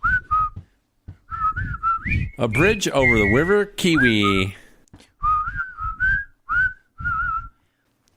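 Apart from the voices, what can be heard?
whistling in the background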